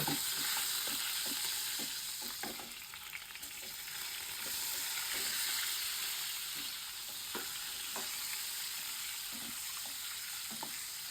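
An egg fries in a pan with turmeric for egg masala, a soft steady sizzle with scattered light scrapes and ticks of stirring, fairly faint and continuous.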